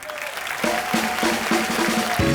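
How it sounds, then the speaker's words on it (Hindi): Sustained applause from a large studio audience at The Kapil Sharma Show, a dense wash of clapping that stays loud throughout, with faint musical tones underneath. "जोरदार तालियां"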